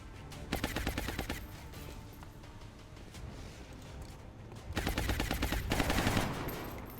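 Soldiers fire in the turn-based video game XCOM Enemy Within: two loud bursts of rapid automatic gunfire, one early and one near the end, separated by a quieter stretch of low rumble.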